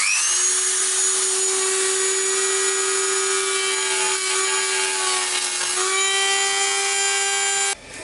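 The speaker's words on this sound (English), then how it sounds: "Shall we get our cutting disc on our Dremel and cut this apart" A Dremel with a cutting disc grinds steadily into a shower mixer, a loud, close, high-pitched whine with a constant tone that dips slightly partway through and stops abruptly at the end; no speech.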